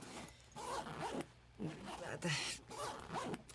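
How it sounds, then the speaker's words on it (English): The zipper on a Wandrd PRVKE 2.0 backpack is pulled open one-handed in several short, rasping strokes, close and fairly loud, with brief pauses between pulls. "So maybe the zipper's just gotten better."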